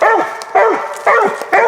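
A hound dog lets out four loud, close yelping barks with whimpering tails, evenly spaced about half a second apart.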